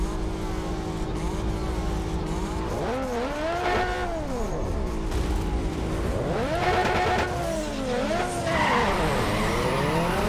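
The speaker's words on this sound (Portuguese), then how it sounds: "vai dizer que esse ronco não tá louco, velho. Meu pai amado, tá berrando lindamente o carro" A modded car engine in the Need for Speed Underground 2 racing game roars loudly and continuously, its pitch sweeping up and down through repeated revs and gear changes while tires skid and squeal underneath, with no talk.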